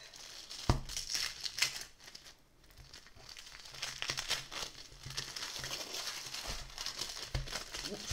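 Tissue paper is unwrapped from a boxed oracle card deck, giving close crinkling and rustling with sharp crackles and tearing-like bursts that keep recurring throughout.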